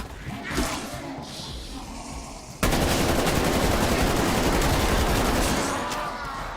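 Automatic gunfire in Call of Duty: Black Ops Cold War's zombie mode starts at first with scattered shots and distant noise, then breaks into loud, sustained rapid fire that runs unbroken to the end.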